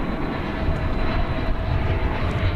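A Fiji Airways heavy jet on final approach at Dallas/Fort Worth airport gives a steady, loud broadband engine roar that stays constant throughout, with no voices.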